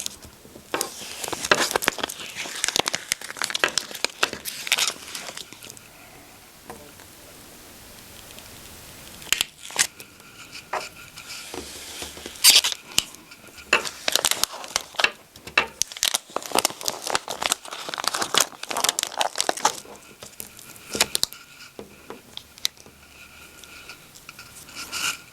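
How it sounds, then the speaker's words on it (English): Excess heat transfer foil peeled away from a trimmed design during weeding, making close, repeated crinkly rasps and rubbing scrapes in irregular bursts with short quieter gaps, no talking. "I already have my designs trimmed apart, so I can go ahead and weed away the excess material."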